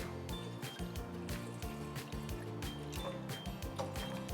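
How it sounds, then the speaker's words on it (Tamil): Water is poured into a small saucepan to start blanching for a sweet corn vegetable soup, a steady liquid splash running beneath loud background music. "கொஞ்சம் தண்ணி ஊற்றிங்க."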